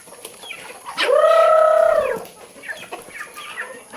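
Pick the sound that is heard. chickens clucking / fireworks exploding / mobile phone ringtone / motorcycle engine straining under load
chickens clucking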